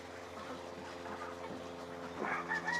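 A rooster and hens on a farm cluck steadily in a low murmur, with a sharper call rising near the end, close by amid faint farmyard noise.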